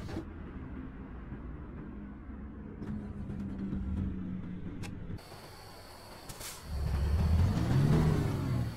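A truck engine in American Truck Simulator hums at low idle while maneuvering, then revs up with a rising, rumbling pitch near the end.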